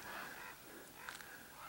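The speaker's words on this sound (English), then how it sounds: "Some crows coming by laughing at us." Crows cawing as they fly past high in the Burro Mountains, a few faint, distant harsh calls over wind-like outdoor ambience.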